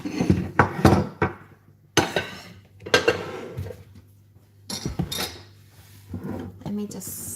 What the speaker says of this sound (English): Let me just see if I can get my pie out from the oven.